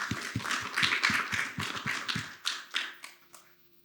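Brief burst of audience applause at a university pledge ceremony for physiotherapy graduates, a crowd clapping that swells and then fades out within a few seconds.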